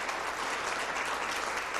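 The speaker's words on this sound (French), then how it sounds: "Oh, une bonne main d'applaudissement." A crowd at a Québécois evening show claps in a steady, moderate burst of applause for a 13-year-old accordion player, heard alone for a short stretch.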